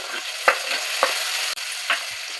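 Tomatoes tossed into a hot oiled pan with spices, mint, green chillies and onion for tomato rice, giving a steady sizzle with several short stirring scrapes, close and alone.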